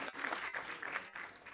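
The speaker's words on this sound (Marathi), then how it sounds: "एकदा जोरदार टाळ्या मोरे सरांसाठी आपण वाजवूया" Audience applause at a Marathi TV show launch event, a dense steady burst of clapping from a large crowd, lasting briefly without speech.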